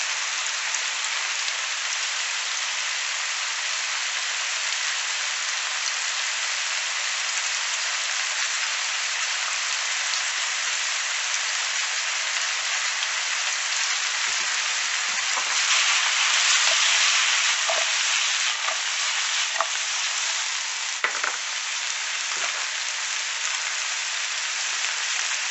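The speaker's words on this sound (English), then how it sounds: "And saute." Canna being sautéed in a pan gives a steady, dense sizzle throughout, with a few louder pops and crackles near the middle and end, and no talking.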